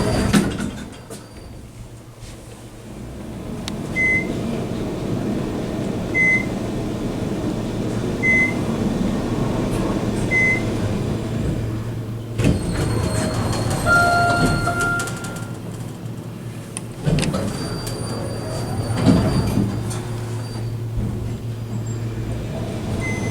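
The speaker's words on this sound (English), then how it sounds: "Very nice elevator system." An OTIS Series 1 traction elevator runs in a building on Zinfandel Drive in Rancho Cordova, California, giving a steady low hum with periodic chimes, mechanical clunks and door movement.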